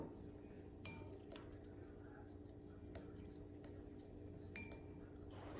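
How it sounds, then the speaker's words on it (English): A utensil stirs slime mixture in a glass, making faint, sparse clinks that land irregularly against a quiet background. "stir for 30 seconds."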